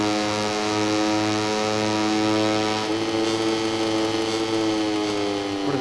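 KTM Moto3 racing motorcycle engine in the MotoGP 19 video game, a steady high-revving buzz with strong harmonic tones, holding pitch then shifting slightly as the bike passes, moderately loud and continuous.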